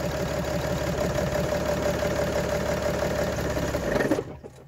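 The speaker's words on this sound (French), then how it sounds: "Vous allez entendre le moteur comment il va changer de bruit." A car engine with an unplugged fuel injector idles steadily with a rough, uneven rhythm and pulsing misfire, then abruptly stalls and cuts out near the end.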